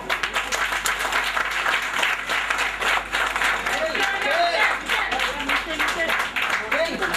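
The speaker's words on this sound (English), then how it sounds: "Can we have a round of applause for him?" A crowd at a book release event applauds steadily throughout, while voices call out and talk over the clapping.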